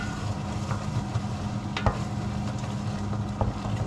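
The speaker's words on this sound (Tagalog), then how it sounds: "igisa lang natin yung ating munggo" Mung beans sautéing in a pan give a steady sizzle, with a few sharp clicks and scrapes from stirring over the continuous frying hiss.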